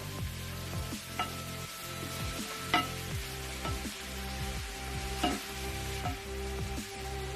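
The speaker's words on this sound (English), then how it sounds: "Keep stirring till it goes right down." Curry shrimps fry in a pot while being stirred, a continuous close sizzle broken by regular scraping strokes and occasional sharp clinks of the spoon against the pot.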